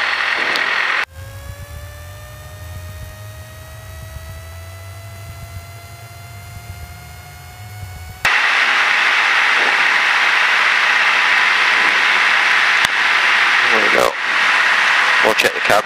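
A light aircraft engine holds a steady run-up at 2000 RPM, first a droning tone with rising harmonics, then a louder broadband roar from close by.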